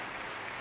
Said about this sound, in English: they're clapping so loud I can hear it in my ears